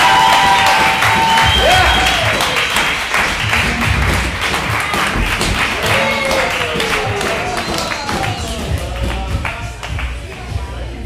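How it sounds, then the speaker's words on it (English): Live theater audience applauding with loud cheering and whoops for an improv comedy troupe taking the stage, dense continuous clapping fading gradually over about eleven seconds. "let's bring to the stage with some loud noise and claps"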